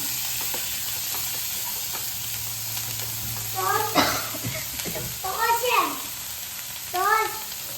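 Paneer butter masala stirred and frying in a pan, a steady sizzle with scraping strokes while a voice chatters in bursts over the cooking.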